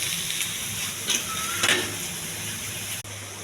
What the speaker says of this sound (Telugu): దొండకాయ ముక్కలండి, ఇవి కూడా వేసేయాలి.